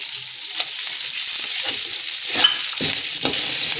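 Fresh curry leaves fry in hot oil for a pepper-spiced pineapple sambar, giving a steady close sizzle with light stirring scrapes throughout and no talk.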